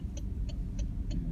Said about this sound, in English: It's a lot of traffic there